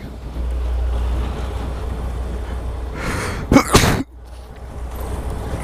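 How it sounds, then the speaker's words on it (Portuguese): A man's single loud sneeze bursts out close to the microphone, apparently while driving in traffic, over a steady low rumble and wind noise, followed by a quieter stretch. "Não tô gostando desses espirros meus"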